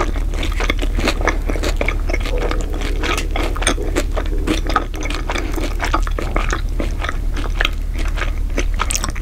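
Close-up chewing and biting of plain kirimochi, a dried Japanese rice cake, with crisp crunches, sticky chews and scraping sounds repeating steadily throughout at close range, with no talking.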